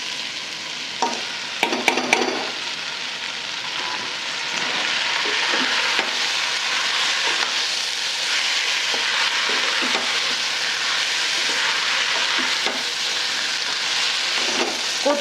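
Drained rice goes into a pan of sautéed vegetables for spicy Marathi masale bhat, with a few clattering stirs at first, then a continuous loud frying sizzle and scraping of the spoon that carries on for the whole stretch.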